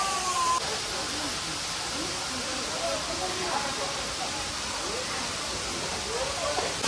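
Continuous broadband rush of a waterfall at Tirumala near Tirupati, a loud steady hiss with no pauses, with faint voices under it.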